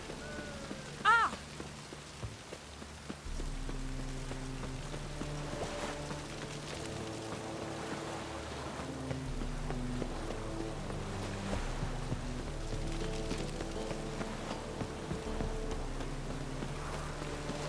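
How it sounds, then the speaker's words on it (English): Steady rain from The Witcher 3 falls as an even, constant hiss under a low musical drone, with a brief louder thump near the start. "Looks like rain."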